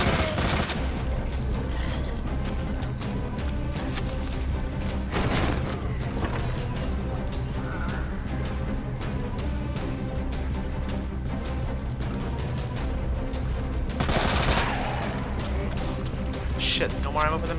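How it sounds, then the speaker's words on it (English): Machine gun fire rattles in rapid continuous bursts in the Resident Evil 2 remake, with sharp loud volleys near the start, around five seconds and around fourteen seconds over a constant roar of game sound and music. "more ammo for the machine gun"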